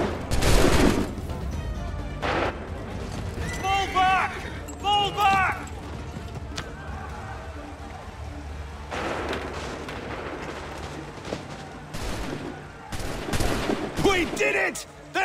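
Gunfire volleys in the video game Assassin's Creed III: bursts of massed musket shots at the start and again toward the end, mixed with shouted voices, horse sounds and battle noise.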